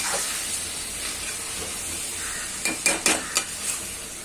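Vegetables coated in cornflour and maida, already fried, are stir-fried for veg Manchurian in a pan on high flame, giving a steady sizzling hiss broken by a few sharp scraping stirs near the end.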